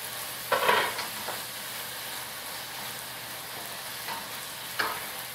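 Green beans stir-fry teriyaki style in a hot pan with a steady soft sizzle. A louder burst of frying comes near the start and brief spikes recur later, probably from tossing or stirring.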